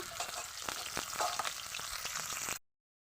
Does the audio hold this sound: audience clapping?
no